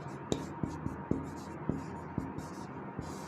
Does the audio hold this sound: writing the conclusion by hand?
yes